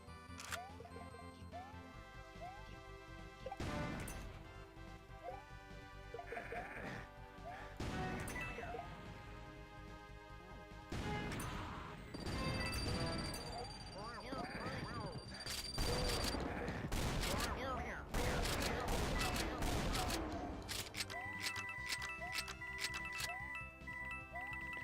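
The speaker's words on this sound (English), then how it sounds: "Oh wow, with a rocket launcher, they just clean up." Rocket launcher fire in the Doom mod The Golden Souls 2, with repeated blasts and explosions over game music, crashes and effects, and someone talking throughout.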